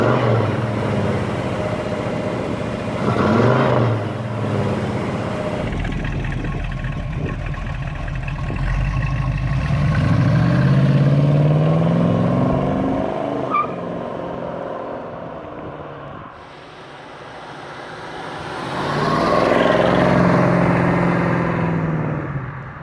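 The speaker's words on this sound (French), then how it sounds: "390 Cubic Inch il fait quand même une superbe sonorité." Ford Mustang Mach 1 with a 390 cubic inch V8, heard loud and close with a deep rumbling idle that swells into several revs, easing off before a final strong rev.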